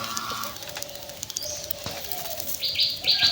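Wild forest birds, myna among them, chirp near tame pet birds, with bright short tweets and a few sustained whistles at moderate distance, no speech.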